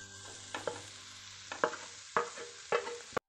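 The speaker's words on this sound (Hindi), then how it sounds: "अब हम अपने आलू ये इस तरह से दबाते हुए अच्छे से भून लेंगे" Soft scraping and stirring strokes as mashed boiled potatoes are pressed and fried in a pan over a steady low sizzle, several separate pushes spaced about half a second apart, close and quiet.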